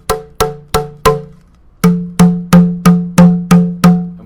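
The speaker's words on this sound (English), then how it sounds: "And if I hit this tube" A metal tube from a sound exhibit is struck repeatedly, each hit ringing out as a loud, bell-like clang that decays quickly, four strikes, a pause, then seven more in an even rhythm.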